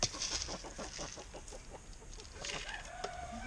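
Several chickens on a small off-grid farm cluck in quick repeated bursts, fairly close, followed by a few higher squawky calls, with no voices over them.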